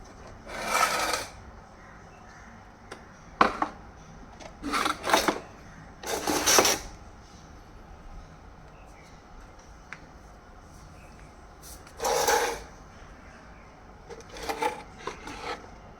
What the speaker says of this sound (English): I'm gonna scrub it real good with some shampoo and a pressure wash.